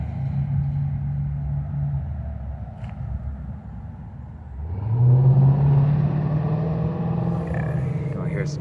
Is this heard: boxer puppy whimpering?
no